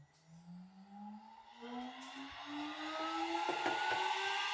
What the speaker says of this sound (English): now I'm gonna turn on the spindle